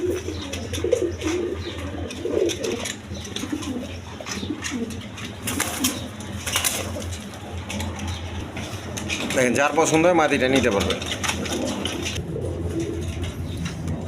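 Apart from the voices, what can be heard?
Pakistani Teddy pigeons cooing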